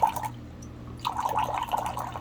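Water runs from a stainless steel sight glass spigot, a steady close trickle and splash that briefly eases and then flows strongly again over a low hum.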